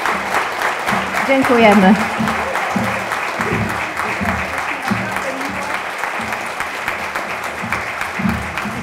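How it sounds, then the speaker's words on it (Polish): Warm applause fills the hall at an International Day of Persons with Disabilities event, steady clapping from a sizable audience while a voice briefly speaks over it near the start. "proszę o gorące brawa"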